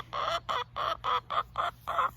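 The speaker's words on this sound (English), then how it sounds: "Look, there's my bad chicken out." Backyard chickens scratching about in hay give seven evenly spaced clucks, fairly close and clear, with a steady low hum underneath and no talking.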